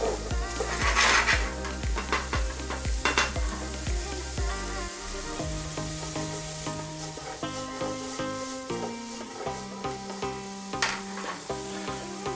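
Peas and garlic fry in a pan over medium heat for egg fried rice, a soft sizzle with stirring scrapes and occasional utensil clinks, heard under background music.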